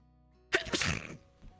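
A single sharp sneeze bursts out suddenly in an otherwise quiet room, loud and close, followed by a brief fading tail and a soft trailing breath.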